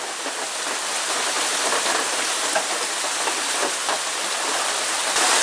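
Heavy rain pours down steadily in a dense, even hiss with no letup and no voices.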